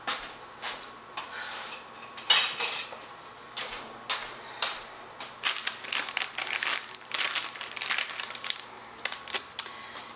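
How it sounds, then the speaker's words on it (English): A small spatula scrapes sticky homemade granola from a pan, making crunchy, crackling scrapes and taps in irregular bursts close by that grow busier toward the end, with no voices. "let's see if I can get a little spatula here"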